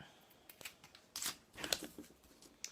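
Scissors snip a long tapered cut into a basket rib while adding ribs to a handmade basket, giving a few close, crisp cuts and faint rustles in a quiet room.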